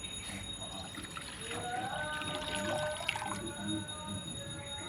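Water poured into a pan on a lit gas stove for cooking Maggi noodles, a soft continuous trickle and splash heard fairly close, with faint voices in the background.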